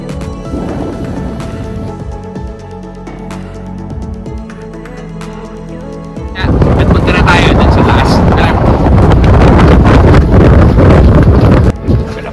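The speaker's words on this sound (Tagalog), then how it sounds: "Pero ngayon, dahil Disyembre, ay mahangin." Strong December wind buffets the microphone at the Pantabangan hanging bridge, a low rumble that swells and becomes much louder halfway through and then stays steady.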